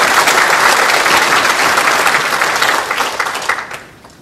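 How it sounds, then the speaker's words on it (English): An audience claps heartily at a chamber of commerce gala, a dense, steady roar of hands that holds strong before tapering off near the end. "Let's give them a round of applause."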